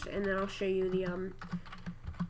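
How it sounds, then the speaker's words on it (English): Someone types on a computer keyboard while writing an HTML form tag in a code editor. Someone talks first, then a quick, close run of light key clicks follows. "So I'm just gonna type it first"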